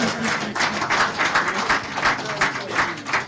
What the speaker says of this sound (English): make una clap for her